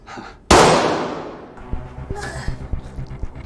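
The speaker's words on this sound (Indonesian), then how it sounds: "Beberapa saat kemudian terdengar bunyi tembakan." A single sharp gunshot bursts out loud and close, then rings and decays over about a second, followed by scattered knocks, clanks and faint background voices.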